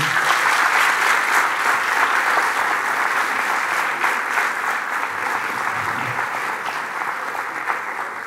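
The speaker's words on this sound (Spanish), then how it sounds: "un aplauso para Andy." An audience at a science talk gives steady, dense applause for a guest artist seated among them, loud at first and tapering slightly over several seconds, with no talking over it.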